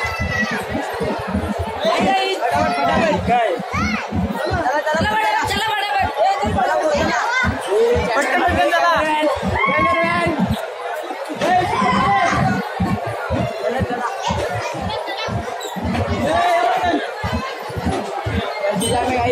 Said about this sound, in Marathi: गर्दी जाम आहे.